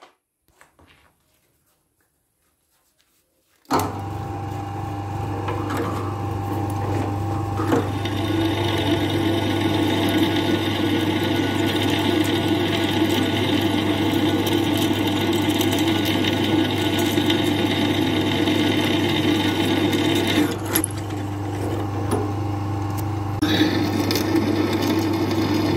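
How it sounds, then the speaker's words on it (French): A power drill bores holes in a metal winch mount for a Lider car transporter trailer bed, grinding steadily for a long stretch after a silent start, pausing briefly, then resuming. "je vais percer mes 4 trous"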